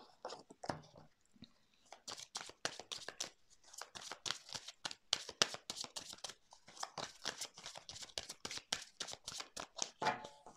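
Tarot cards are shuffled up close in rapid bursts of crisp riffling and flicking, a dense rhythmic rattle that runs almost continuously with brief pauses, and no voices.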